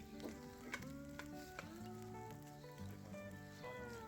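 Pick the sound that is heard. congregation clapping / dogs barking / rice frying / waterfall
rice frying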